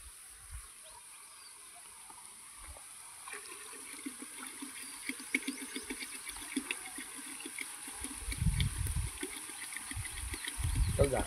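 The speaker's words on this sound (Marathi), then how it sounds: "आता हे घट्ट असल्यानंतर आपण त्याच्यात अजून पाणी टाकून त्याला काढू" Water poured into a thick custard apple orchard treatment mixture, first faint and sporadic, then a steadier splashing and gurgling that grows louder toward the end.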